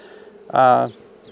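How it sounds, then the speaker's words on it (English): Honey bees buzzing at an open keeper's hive during a hive inspection with smoke, one loud close pass of droning wingbeats lasting about half a second over a quiet background hum. "make sure the bees aren't sitting on the frames here"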